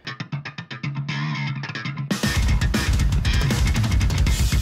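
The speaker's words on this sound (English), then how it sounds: "lower guitar parts with distortion" Heavy distorted electric guitar playing low, chugging parts, starting with short choppy hits and then swelling into a dense, loud wall of sound.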